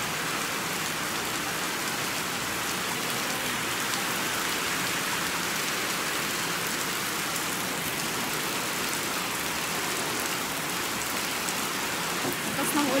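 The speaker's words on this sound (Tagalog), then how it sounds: "Kaso lang, alakas talaga ng ulan." Heavy rain pours steadily on surfaces for the whole stretch, a dense, unbroken hiss, loud and close, during a birthday celebration, with no break in the downpour.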